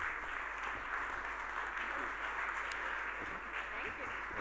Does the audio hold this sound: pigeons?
no